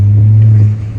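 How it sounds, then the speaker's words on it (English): Volvo C30 with a Stage 2+ tune accelerating hard, a loud steady low engine drone that eases off toward the end of the short burst. "It's really nuts how this car pulls now."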